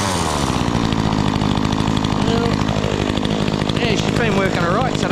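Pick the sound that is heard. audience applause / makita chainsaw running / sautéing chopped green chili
makita chainsaw running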